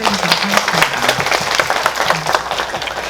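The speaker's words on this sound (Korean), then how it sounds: "그분들한테 박수 한번 쳐드리도록 하겠습니다" An audience at a Megabox COEX film talk applauds, a loud, full burst of many hands clapping that holds steady for the whole stretch, with faint voices underneath.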